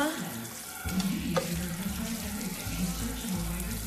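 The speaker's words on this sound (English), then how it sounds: "does anybody else do this when they washing dishes?" Tap water runs into a sink while dishes are washed, a steady close rush with clinks and splashes of handling, and no talk over it.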